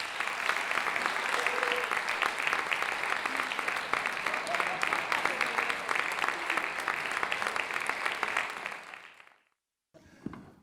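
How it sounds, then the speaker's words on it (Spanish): A crowd applauds the gaiters de Chaca bagpipe group at an award event, steady dense clapping for about nine seconds before it stops abruptly, followed by a brief quiet and a faint burst of sound. "un aplauso bien gran pa os gaiters de Chaca"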